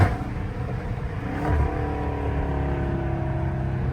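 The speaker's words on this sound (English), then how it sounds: "y'all gonna hear some loud downshifts" A Dodge Scat Pack driving through traffic with traction control off blips its engine in a quick downshift, with a short rev spike, then settles into a steady mid-range drone.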